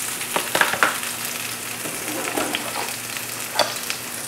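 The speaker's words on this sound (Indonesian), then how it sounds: "Kita tumis bawangnya sampai benar-benar agak kecoklatan ya" Onions sautéing in a pan for an Indonesian soup, a soft steady sizzle with scattered crackles and light scraping clicks, fairly quiet and without talk.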